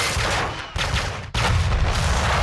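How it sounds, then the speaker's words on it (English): Beretta 92 pistol gunshots from a Mission: Impossible film, loud and dense, with sustained blasts broken by two sharp cuts in quick succession. "The Berettas have that Terminator 2 kind of phased choo-choo sound to them."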